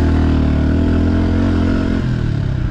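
Beta 125 off-road motorcycle engine revving loud and close, a dense buzzing drone that holds steady and then dips in pitch near the end, with no voices.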